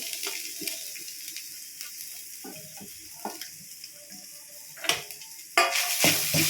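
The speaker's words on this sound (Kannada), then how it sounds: "ಆಯಿಲ್ ಪಾಡ್ದು ನನ್ನ ತಾರಾಯಿ ಫ್ರೈ ಮಲ್ಕೊಡ್ನೆಟ್ಟು" Grated coconut fries in a spoonful of oil for a Mangalorean sukka, giving a soft, faint sizzle broken by scattered clicks and scrapes of a spoon stirring the pan, which grow louder near the end.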